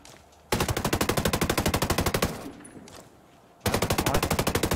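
Rapid automatic gunfire in the video game Ghost Recon Breakpoint rattles out in two long, loud bursts of evenly spaced shots, separated by a short quieter pause.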